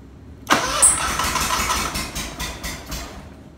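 A Scag Turf Tiger mower engine cranks and catches close by, then runs unevenly with pulsing revs as it settles toward idle, alone without talk.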